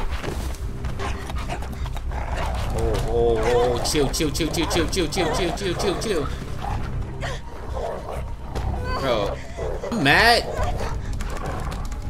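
Dogs snarl, pant and bark in a chaotic fight in the video game Beyond Two Souls, with growls and yelps layered over constant game noise while someone talks excitedly over the action.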